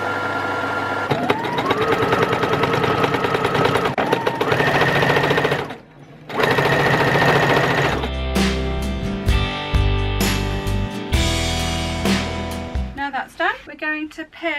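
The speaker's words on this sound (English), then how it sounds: "I'm just going to sew those bits on" A sewing machine stitches fabric pieces for an upcycled laptop sleeve, running in long steady bursts with a brief pause, then in choppier starts and stops, loud and close.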